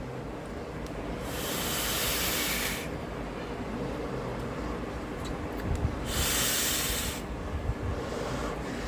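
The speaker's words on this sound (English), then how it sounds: "if you want to hear the sound when it's fully open, let me take a pull and you can understand" Two long bursts of breathy hiss come through a Valhalla V2 micro RDA vape with its airflow fully open as it is drawn on, each lasting about one and a half seconds over a quiet background.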